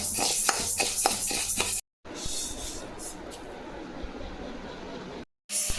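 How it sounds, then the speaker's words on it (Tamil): Sago pearls dry-roasting in a pan give a close run of rhythmic scraping strokes, then a steady dense rustle and hiss with two brief breaks, and no voices. "ஜவ்வரிசிங்க இதை வறுத்துக்கலாம்"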